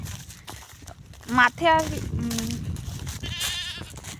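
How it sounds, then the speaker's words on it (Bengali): A goat bleats a couple of times nearby, wavering cries over a noisy outdoor background with some talking. "ছাগলটা আমাকে দেখলো আর চিল্লাচ্ছে ম্যা ম্যা করে"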